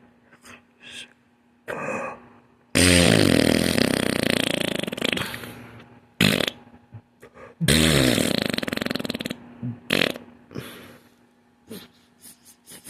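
Several loud, drawn-out raspy blasts imitating fart sounds, close to the ear, separated by short breathy gaps and quieter snorts and gasps.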